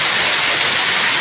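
Strong rushing water pours down at Kintampo Waterfalls in Bono East, Ghana, a loud, dense and unbroken roar that stays steady throughout with no voices.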